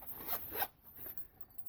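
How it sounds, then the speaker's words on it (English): A zipper on a jewelry tool kit pouch is pulled open in two quick rasping strokes close up, followed by faint softer rubbing. "A zipper pouch."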